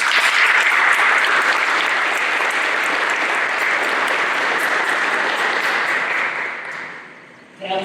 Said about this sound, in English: I would like us all to just give a round of applause.